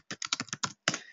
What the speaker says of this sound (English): And now I just literally type in what I want to say.